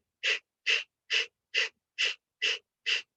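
Seven short, sharp breaths forced out through the mouth in an even rhythm during a yoga breathing exercise, each puff close and breathy with brief silence between, no talking.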